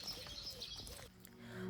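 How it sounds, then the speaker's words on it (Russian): Birds chirp and coo faintly in the early morning, with soft dove-like calls at a distance over a steady outdoor background. "Птички поют, раннее-раннее утро."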